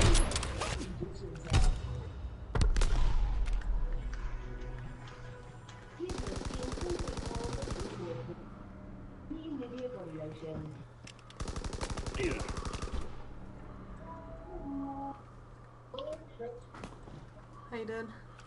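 Bursts of machine gun fire in the multiplayer game Call of Duty WW2, loud rattling volleys coming and going across the span, with a player talking over and between the shots.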